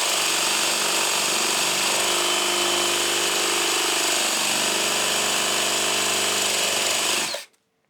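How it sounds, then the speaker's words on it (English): A battery drill bores a spade bit into a piece of scrap pine, giving a loud, continuous grinding whir that holds steady for about seven seconds before cutting off abruptly. "So I am going to be using the old battery drill for this"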